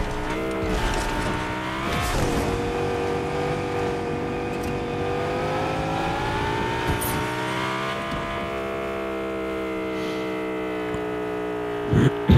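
A car in the Fortnite video game drives with a steady engine hum and repeated tire squeals throughout, a loud continuous in-game sound with no talk over it.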